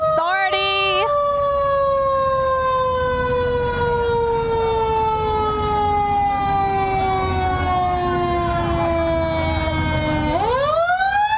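A Berkeley County emergency ambulance siren wails loud and close as the vehicle passes in a festival parade, its tone sliding steadily downward before a sharp rising whoop at the end, over crowd noise.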